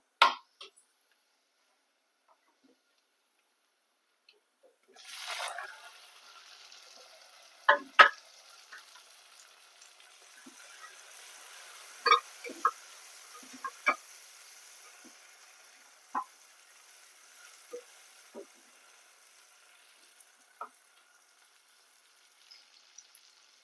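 Tomato goes into a pan of fried onions, raising a brief burst of sizzling, after which quiet frying crackles along with scattered clinks and scrapes of stirring.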